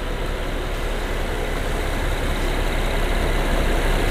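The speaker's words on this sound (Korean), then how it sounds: "엔진 소리 일정합니다" An Infiniti QX50 3.7 AWD, a used car with its engine bay open, idles with a smooth, even hum that stays constant and unbroken throughout, with no voices over it.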